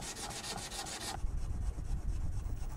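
A cut mother-of-pearl shell piece is planed in rhythmic, repeated scraping strokes that turn harsher and lower partway through, close and fairly steady, with no speech.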